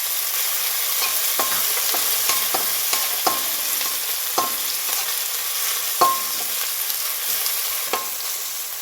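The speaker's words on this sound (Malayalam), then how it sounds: "ചെറിയുള്ളി നന്നായിട്ട് വഴറ്റിയെടുക്കണം. അതിൻ്റെ കൂടെ തന്നെ കറിവേപ്പിലയും ചേർത്ത് കൊടുക്കാം." Crushed shallots and curry leaves sauté in hot oil in a pan for a Kerala-style potato fry, giving a steady close sizzle broken by scattered scraping stirs of a spoon, with no voices.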